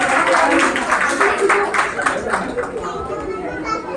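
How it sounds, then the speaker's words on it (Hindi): At a Jain temple moral-education camp, an audience claps to welcome guests, a rhythmic burst of many hands mixed with chatter and children's voices that gradually fades. "आप सब तालियों से उनका स्वागत कीजिए"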